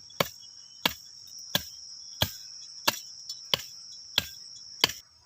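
A tree branch is cut with evenly spaced blows, about eight sharp chopping strikes ringing out at a steady rhythm under a continuous high insect drone.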